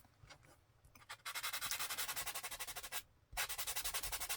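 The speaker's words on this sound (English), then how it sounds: "just going to use this sanding sponge" A sanding sponge rubs back and forth over wallpaper ephemera in quick, even strokes, close and fairly loud, pausing briefly before resuming.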